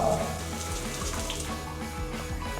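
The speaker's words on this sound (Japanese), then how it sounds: "でもシャワーヘッド重くそ錆びてるわ。 水圧とかどうやろ。" Water pours from a rusty shower head in a hotel bathroom on Santorini, a dense, steady hiss and spatter that continues without break.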